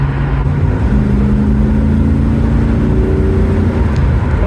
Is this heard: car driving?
yes